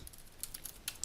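Someone types on a computer keyboard with a few soft, quick clicks. The keystrokes come in small clusters close by, and no one speaks over them.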